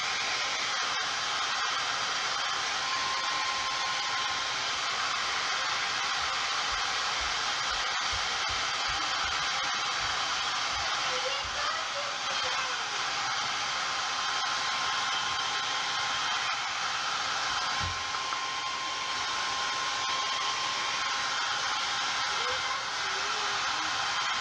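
A heat gun warms the chin piece of a copper mask with a steady blowing hiss that holds constant and close for the whole stretch, with faint handling noises underneath.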